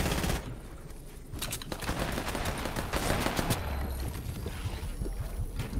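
Rapid assault rifle fire in a Fortnite-style competitive cash cup match, a dense continuous burst of shots running the whole stretch with sharp cracks over a steady roar.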